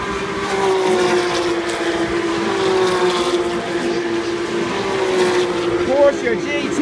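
A Porsche GT3 Cup race car engine at speed on a track, a loud, steady drone with rising and falling pitch sweeps as it passes, heard under excited commentary.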